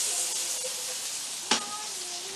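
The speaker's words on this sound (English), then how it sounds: "So we're going to let those saute away for a couple minutes" Mushrooms saute in butter in a pan with a soft, steady sizzle and hiss, broken by one sharp clatter midway.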